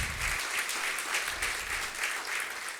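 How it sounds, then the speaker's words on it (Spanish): Church congregation applauding during a worship service, a brief burst of steady, crowded clapping at moderate loudness with no voices standing out. "Le brindamos un aplauso a nuestro buen Padre fiel"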